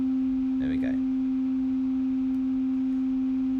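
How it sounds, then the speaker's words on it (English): A steady, pure sine tone from a VCV Rack oscillator hums continuously at an even level, with a brief faint voice murmur near the start. "So you've got a sine wave, that's kind of like this pure tone, it's quite a mellow, very mellow tone."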